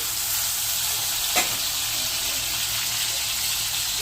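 Ginger paste frying with tomatoes and onions in a pan gives a steady, close hiss of sizzling oil, continuous and even, with one brief clink partway through and no voices.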